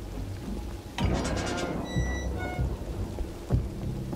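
Rain falls steadily in Detroit: Become Human, with a sharp thunder crack near the start and another burst later, plus faint electronic beeps over a soft, continuous patter.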